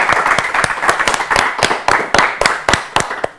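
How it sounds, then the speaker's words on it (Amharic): Audience clapping at a children's Easter quiz competition, with a burst of sharp, close hand claps thinning into scattered louder individual claps. "አጨብጭቡላችሁ"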